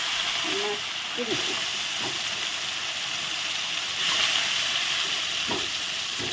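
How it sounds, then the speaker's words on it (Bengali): A large batch of small local bam fish fries in a generous amount of hot oil with a steady, bright hiss, and a few faint voice fragments sound underneath. "তেল দিয়ে দিয়েছি গরম হয়ে গেছে একবারে সবগুলো মাছ দিয়ে দেবো"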